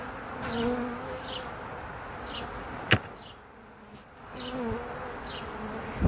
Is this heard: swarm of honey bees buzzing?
yes